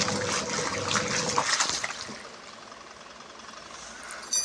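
A washing machine set to a 15-minute wash churns a double-bed blanket, with loud sloshing, rushing water that drops after about two seconds to a quieter, steady hiss.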